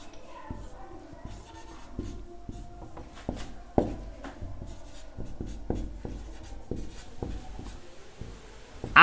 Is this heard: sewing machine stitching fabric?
no